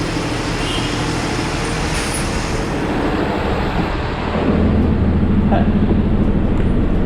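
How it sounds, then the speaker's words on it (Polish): Continuous low rumble and rattle of a tram ride in Miami, steady engine-like hum that grows slightly louder and heavier partway through. "Tak wygląda tramwaj."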